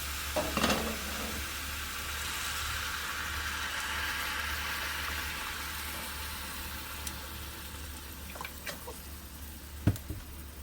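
Hamburger stew simmers in a pot, a soft steady bubbling sizzle with a low hum underneath, an occasional clink early on and a sharp tap near the end.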